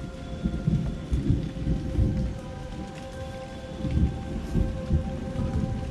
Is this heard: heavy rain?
yes